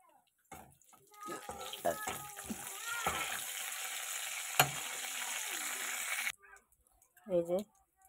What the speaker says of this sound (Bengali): ফোড়নটা ভালো মতো একটু ভাজা হোক।